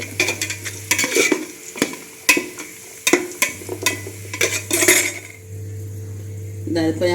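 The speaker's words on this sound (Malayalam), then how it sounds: "ഉള്ളി വരിഞ്ഞതിന് ശേഷം, കുറച്ച് വരിഞ്ഞതിന് ശേഷം അണ്ടിയും കിസ്മിസും ഇടും. നല്ലോണം വറുക്കുക." Cashews and raisins frying with onion in oil for chicken biryani, with a spoon stirring and scraping against the pan in sharp repeated clinks over a low steady hum, loud and close, with no talking.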